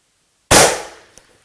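A single 7mm Backcountry rifle shot fired at long range on a still day, a sharp loud crack with a decaying tail, followed about half a second later by a faint distant impact tick.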